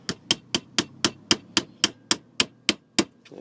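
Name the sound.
hammering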